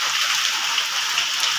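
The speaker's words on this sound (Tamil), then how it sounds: "காலையிலேருந்து மழை பெய்யுது" Heavy rain that has been falling since morning makes a loud, dense, continuous hiss throughout, with no voices.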